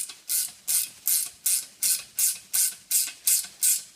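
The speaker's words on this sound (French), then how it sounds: "On va prendre une clé à cliquer" Ratchet wrench tightening bolts while assembling a two-in-one chainsaw stand, ten loud, even ratcheting strokes in a steady rhythm, close and alone.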